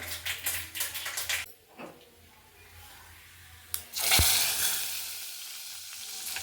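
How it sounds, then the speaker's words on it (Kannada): Mustard seeds, cumin and fennel crackle in hot oil for a simple South Indian tempering, with bursts of sizzling up close, a quieter lull, then a loud fresh surge of frying that holds steady. "ನೋಡಿ, ಈ ಥರ ಶಬ್ದ ಬರಬೇಕು ಒಗ್ಗರಣೆ ಮಾಡ್ಕೊಂಡಾಗ"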